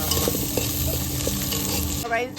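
Capsicum and tomatoes cook in a pan with a steady close sizzle, punctuated by scraping stirs and light clinks of a utensil against the metal.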